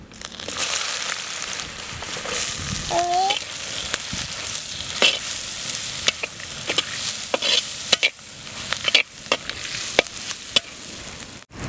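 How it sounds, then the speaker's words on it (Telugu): Mustard seeds, dry red chillies and chopped onions fry in hot oil, a steady close sizzle broken by repeated sharp clicks and scrapes as a spoon stirs the pan. "ఈ ఆయిల్లోనే ఆవలు వేసేసుకుంటున్నాను తర్వాత ఎండుమిర్చి కూడాను కోసి పెట్టుకున్న ఉల్లిపాయలండి"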